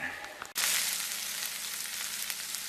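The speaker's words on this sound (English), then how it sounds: "I got our pork's browned up pretty good, and just want to get some of that brown in the pan." Pork browning in a pan for green chili gives a loud, steady sizzle that starts abruptly after a brief quiet moment and holds close and dense to the end.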